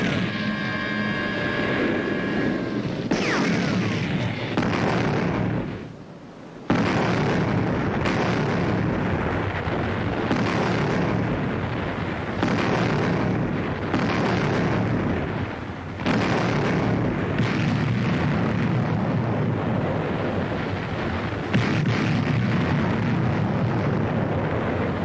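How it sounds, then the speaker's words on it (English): British artillery shells bursting on battlefield positions in wartime, a dense, continuous roar of heavy explosions and rumble with brief lulls, loud and distant-sounding throughout. "The British artillery are hitting our positions."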